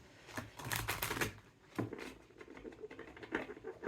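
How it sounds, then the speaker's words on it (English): Tarot cards being shuffled by hand, quick papery riffles and patters in short bursts, close and fairly soft. "Okay, I'm just going to shuffle again"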